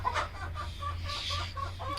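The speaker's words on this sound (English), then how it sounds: "Anyone ever seen a chicken scratch?" Chickens at a farm cluck softly while scratching in the dirt, giving short, repeated clucks over a low steady background hum, faint and unhurried, with no speech.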